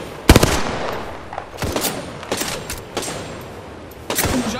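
Rapid gunfire from Apex Legends combat, several sharp bursts and single shots spread across the moment, loud and close, with quieter gaps between volleys and no talking.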